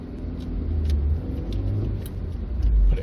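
A 1994 Renault Laguna Mark I 1.8 RT driving through a roundabout, heard from inside as a steady low engine and road rumble that swells near the end, with no talk.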